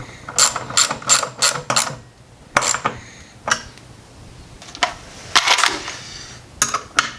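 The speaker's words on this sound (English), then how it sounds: "feel for how tight everything is with a wrench rather than a socket" A wrench ratchets while tightening a Lee Precision reloading press on a workbench: close, loud bursts of rapid clicking in short groups with brief pauses between strokes.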